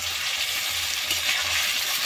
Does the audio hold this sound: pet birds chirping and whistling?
no